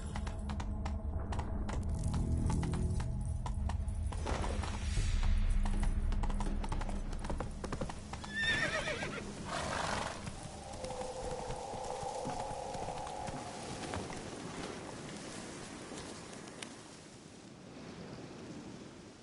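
Rhythmic clip-clop of a horse's hooves galloping in The Witcher video game, thudding fast and fairly close at first, then fading under rumbling ambience and rain-like noise.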